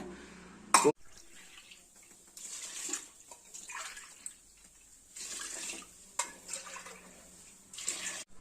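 Water pours from a tumbler in several short bursts, splashing into a pot of rice, separated by quiet pauses, with a clink near the start.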